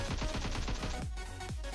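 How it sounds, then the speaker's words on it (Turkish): Gunfire in the mobile shooter Call of Duty Mobile or PUBG Mobile, with a loud, rapid automatic burst of shots in the first second followed by two heavier single booming shots. "Silah sesleri."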